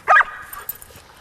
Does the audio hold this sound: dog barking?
yes